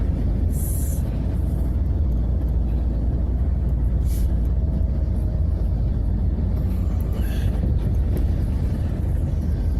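A car drives through flood water during heavy rain in Jeddah, Saudi Arabia, a heavy low rumble with constant roaring wash and occasional brief splashing bursts, loud and continuous.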